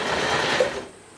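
Sewing machine stitching stretchy swimsuit fabric under light tension, a steady close mechanical whirr running for about a second before it slows and fades.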